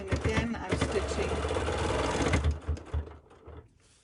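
Sewing machine stitching a quilt with a rapid mechanical whir and rattle running continuously, then slowing and stopping near the end.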